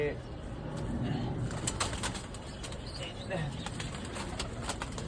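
Pigeons suffering from a cold coo in low murmurs while wings flap in short bursts, with faint background noise throughout.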